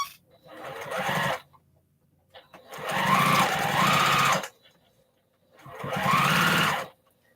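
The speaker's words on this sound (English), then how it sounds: "I'm still sewing the 1/4 of an inch." Sewing machine stitching quarter-inch seams on small postage-stamp quilt pieces, running in three steady bursts of a few seconds each, close and loud, with quiet pauses between.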